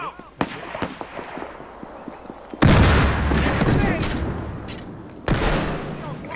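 Gunfire and a flashbang detonation in the police-versus-criminals shooter Battlefield Hardline: sharp shots at the start, then a loud burst followed by sustained ringing noise and a second hit near the end, with player voices mixed in.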